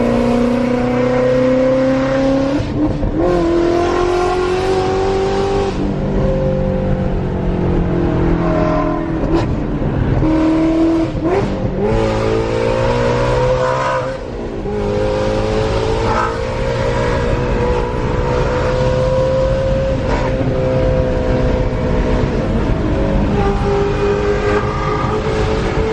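Supercharged Shelby GT350 on the street, its loud engine revving and roaring continuously with rising and falling pitch, a brief dip mid-run, close and dominant throughout with no talking.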